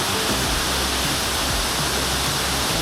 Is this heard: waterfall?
yes